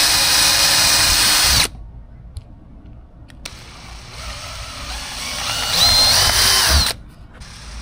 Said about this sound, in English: Now you want to drill straight as possible.